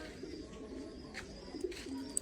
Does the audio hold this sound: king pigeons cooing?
yes